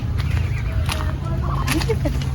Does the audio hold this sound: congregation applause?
no